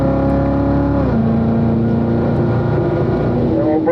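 Loud Corvette engine pulling hard on a track during a driving-school session, a steady roar that drops in pitch at an upshift and then climbs again as the car keeps gaining speed.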